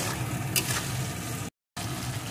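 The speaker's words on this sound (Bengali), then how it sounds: "এখন মশলাটাও এর সাথে ভালো করে কষিয়ে নেব।" Spices, salt and turmeric powder sizzle and fry steadily in hot oil in a pan while being stirred for a cauliflower curry, a continuous close crackle broken by a brief silent gap.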